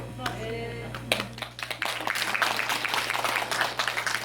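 Audience clapping at a Buddhist women's organization workshop, a dense patter of many hands that swells after a brief voiced moment and continues steadily over a low steady hum.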